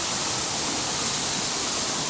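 Swollen river water rushing past after a flood, a loud, constant broadband roar of flowing water filling the whole stretch without pause or voices.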